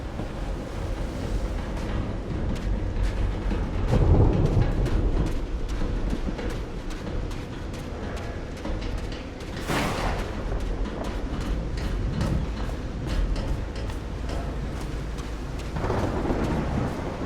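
A thunderstorm with steady heavy rain rolls through Call of the Sea, with deep rumbles of thunder swelling several times over the constant hiss of rainfall.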